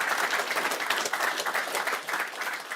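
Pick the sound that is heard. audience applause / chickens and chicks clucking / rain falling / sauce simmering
audience applause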